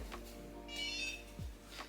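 A NuFace facial toning device powers on with a short electronic tone partway through, set over a faint steady hum, close and quiet, with no talking.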